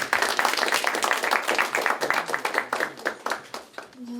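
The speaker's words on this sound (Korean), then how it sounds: "2학년 신유진 학생 박수로 맞이하겠습니다" Audience applause welcoming a second-year middle school student presenting at an SDGs supporters video presentation and graduation ceremony in Pyeongtaek, a dense run of claps from a room of people lasting a few seconds before fading.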